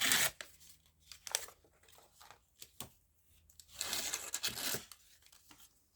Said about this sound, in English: Just rip it because that's going to be trimmed off anyway for the tag shape.